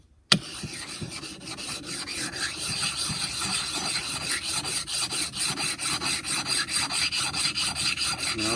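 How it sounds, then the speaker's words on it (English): An old timber framing slick is sharpened on an oiled stone on a workbench: steady back-and-forth rasping strokes, close and continuous, in an even rhythm. "And I'll stone it a little bit just to make sure I got all the high spots off"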